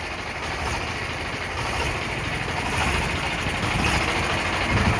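A farm tractor engine idles steadily and close, a continuous low rumbling drone with slight rising loudness, with no talk over it.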